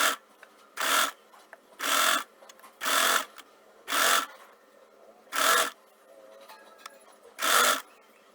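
Sewing machine stitching a strip onto a neckline: seven short bursts of rapid stitching, each about half a second, separated by quiet pauses as the fabric is adjusted.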